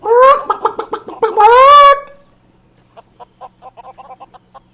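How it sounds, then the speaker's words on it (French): Loud clucking and a squawk from a chicken in the video game Lego Worlds up close, then a rapid run of softer, quieter clucks follows. "Il y a des poules partout."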